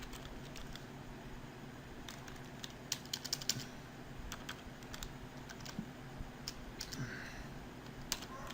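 Steady run of computer keyboard typing with scattered sharper key clicks, close and fairly quiet, while entering a Laravel php artisan migrate command.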